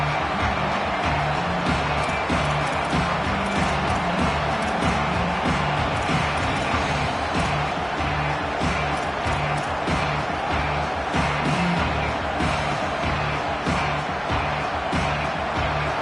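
A football stadium crowd roars steadily for the whole stretch, a loud and unbroken wall of cheering with no pause.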